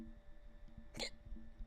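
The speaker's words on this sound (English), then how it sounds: "Oh, crap, I keep getting hiccups." A single short hiccup from a person, close and sudden, standing out briefly against a quiet background hum.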